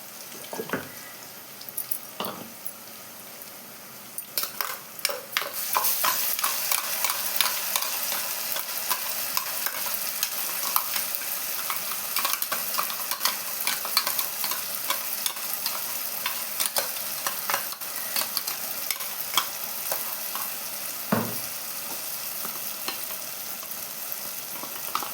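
Golden-fried onions with ginger garlic paste sizzle steadily in a pan for chicken dum biryani while a spoon stirs them, scraping clicks over continuous frying hiss, a faint tap of water briefly near the start, no talking.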